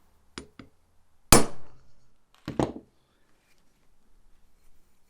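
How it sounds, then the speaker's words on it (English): A hammer tapping an oil seal into place on a Kranzle pressure washer motor, a few sharp metallic taps spaced apart, close and crisp in a quiet workshop. "There's just one sharp tap with a hammer"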